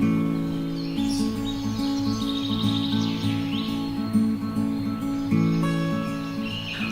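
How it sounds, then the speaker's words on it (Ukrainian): Bright tit song rings out in quick repeated phrases above a continuous low musical drone, clearest in the first half. "Синиця."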